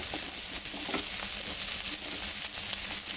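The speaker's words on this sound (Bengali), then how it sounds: "এইগুলো একটু ভালো করে ভেজে নিই।" Carrots and onion frying together in oil in a pan, a continuous close sizzle with soft scrapes and clicks of stirring scattered through it, no voices.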